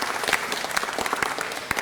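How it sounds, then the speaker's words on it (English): At a city council meeting, a crowd gives a brief round of applause for youth coaches, quick overlapping claps with a few sharper individual hand claps standing out. "Let's give them a great round of applause."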